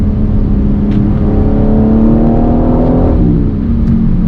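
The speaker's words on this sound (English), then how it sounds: "And again, you just have those upshifts that produce that growl." G82 BMW M4 Competition xDrive engine growling loudly and close as it pulls through the revs, with a rising drone that swells and drops around each upshift.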